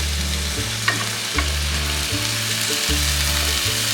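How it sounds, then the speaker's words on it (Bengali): Marinated chicken and fried potatoes fry in a pan with a loud continuous sizzle, while a spatula scrapes and stirs in slow repeated strokes and a few soft knocks, no voices. "ম্যারিনেট চিকেনটা আমি দিয়ে দিচ্ছি। আলু ফ্রাইটা দিয়ে দিচ্ছি।"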